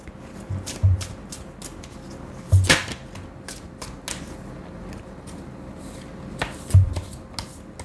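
Tarot cards are shuffled by hand close up in quick bursts of papery riffling, with soft thumps as the deck is knocked together between shuffles.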